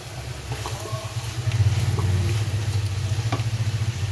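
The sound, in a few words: water added to frying fish head and cabbage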